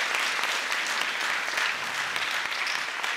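An audience at a talk on Blade Runner welcomes a guest with a steady, dense round of clapping that fills the room throughout.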